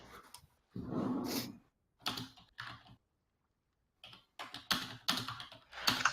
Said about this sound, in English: I was typing a thing